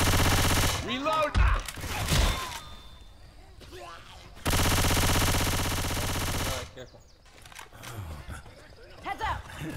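Gunfire in the zombie shooter Left 4 Dead 2 on the Dead Center campaign, with dense bursts of automatic fire in two long stretches and shorter pops between, mixed with shouted voices.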